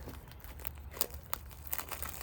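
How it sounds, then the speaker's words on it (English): Scissors cut and tear through plastic wrapping around larch and sugar maple seedlings, making quiet, close crinkling and crunching with a few sharp snips, no talking. "gotta push the blades of the scissors together so that they actually touch"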